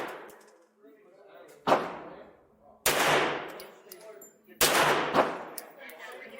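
Three sharp, loud shots from a Ruger Mark IV Lite pistol at an outdoor shooting range, evenly spaced over a few seconds, each with a quick decaying tail, with faint talk in the background.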